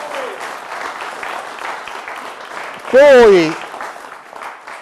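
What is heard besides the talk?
audience applause for Renata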